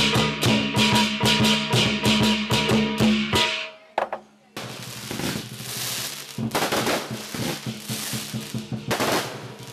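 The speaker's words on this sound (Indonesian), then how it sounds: "menyalakan kembang api untuk memeriahkan malam ini" Rapid crackling bursts of fireworks popping in dense volleys at a night celebration at a Buddhist temple, then a brief lull before more loud cracks and bangs erupt again.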